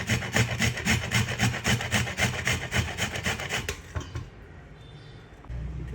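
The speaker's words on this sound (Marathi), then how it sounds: "आता मी ह्या कैऱ्या किसून घेते. त्या प्रकारे किसणीवर अशा प्रकारे किसून घेते." Peeled raw mangoes rubbed on a hand grater, giving a loud, steady rhythmic rasping of quick strokes that stops after about four seconds, followed by quieter handling noise.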